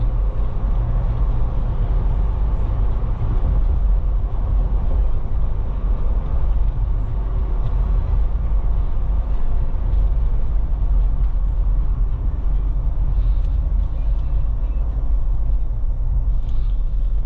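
A 2020 Jeep Wrangler Unlimited Sahara on the road, with a steady, close engine and tire rumble and broad road noise continuing throughout and no talk.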